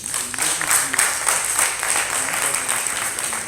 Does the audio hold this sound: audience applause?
yes